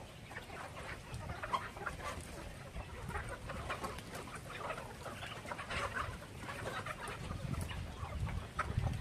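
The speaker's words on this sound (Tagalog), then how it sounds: "Yan na yung mga manok natin." A flock of chickens clucks and murmurs nearby in an outdoor yard, a soft, busy chatter of overlapping calls with occasional louder clucks.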